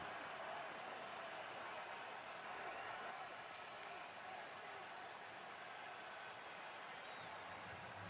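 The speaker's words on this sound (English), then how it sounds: "Crowd getting impatient, and I don't blame him." An impatient stadium crowd at a Giants vs. Cowboys football game makes a constant broad roar and murmur that hangs at a distance, faint and unbroken for several seconds.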